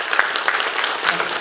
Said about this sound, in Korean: 큰 박수 치고 넘어가겠습니다